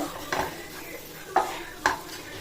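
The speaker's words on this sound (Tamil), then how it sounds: "நல்லா வதங்கட்டும் சிம்மில் வச்சு வதக்கிக்கிடுவோம்" Onions sautéing on a low flame for dosa, with a few distinct scraping stirs of a spoon against the pan over a quiet background; no talking.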